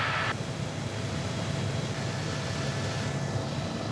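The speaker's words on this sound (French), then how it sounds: "Alors que le pilote amorce son atterrissage" A light aircraft lands on a snowy mountain site, with a steady, loud engine and rotor-like drone that runs unbroken and alone throughout.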